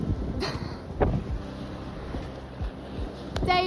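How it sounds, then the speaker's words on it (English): Gusty wind buffets the microphone outdoors on a remote island, low rumbling bursts rising and falling with a few sharp knocks. "it's my birthday, it's very windy"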